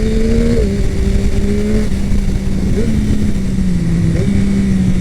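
Yamaha MT-09 SP 2021 roadster engine pulls hard and close, a loud buzzing triple note that climbs and steps through several gear shifts, with wind rush underneath.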